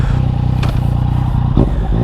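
A Yamaha MT-09 motorcycle with its 847cc engine revs hard at close range, a loud pulsing roar with brief clattering bursts across two seconds.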